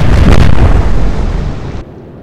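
Bombs exploding on warships in the naval game Atlantic Fleet: a loud, heavy burst of rumbling blasts that stays dense for nearly two seconds, then cuts off abruptly into quiet.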